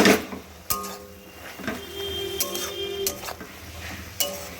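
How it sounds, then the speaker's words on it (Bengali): Food stirred in a cooking pot with a spoon, a series of metallic clinks and taps against the rim at irregular intervals, with the lid clattering back on, close by. "এইভাবে একটু নাড়াচাড়া করে আবার ঢাকা চাপা দিয়ে দেব"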